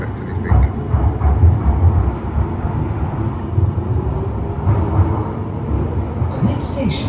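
A London Underground Piccadilly line train rumbles along in a loud, steady, low roar from inside the carriage, with rattling and a faint high tone.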